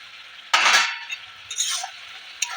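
Fried potato and cauliflower stirred in a pan, heard as three short bursts of spatula scraping and clatter against metal, close up in an otherwise quiet room.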